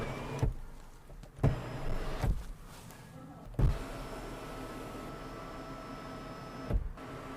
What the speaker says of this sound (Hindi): तो अभी हम इसका जो है वो सनरूफ ओपन करते हैं यहाँ से।